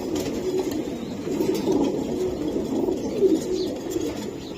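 Several racing pigeons in a loft keep up a soft, continuous chorus of low throaty coos, overlapping and close by, with no voices.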